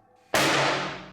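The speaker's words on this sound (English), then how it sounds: "we're going to fire the gun in the vacuum chamber without a vacuum" A gun is fired inside a vacuum chamber left at normal air pressure, producing a single loud, sharp bang that rings and decays over about a second.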